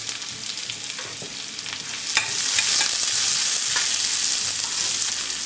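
Sliced onion sautés in hot oil in a pan for a Tamil dal dumpling gravy, giving a steady close sizzle that swells louder and brighter partway through as the onion is stirred, with no voices.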